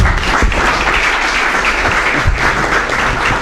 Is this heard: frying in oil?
no